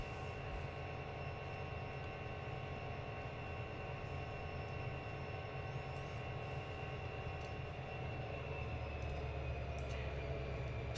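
Simulated trains departing in Trainz 2022, a steady mechanical drone with sustained engine tones holding evenly throughout, moderately loud with no talking.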